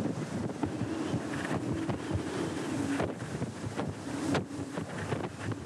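Stormy wind buffeting the microphone beside the sea on a storm day, with gusts roaring and sea spray and surf hissing in the background, loud and continuous with no voices.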